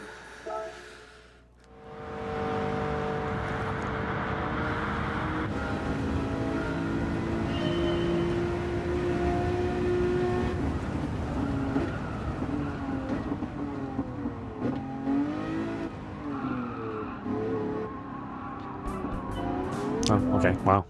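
A Lamborghini in Gran Turismo 7 roars steadily as its engine holds and shifts pitch through acceleration, with brief tire squeals while cornering, someone talking over it throughout.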